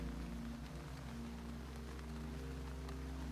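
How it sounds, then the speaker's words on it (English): Soft rain falls outside a quiet hotel room on a residential lane at night, a steady, faint, even patter with no voices. "Outside on Wren Lane, it has started very softly to rain."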